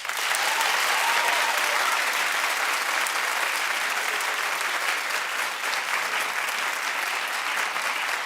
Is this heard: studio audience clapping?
yes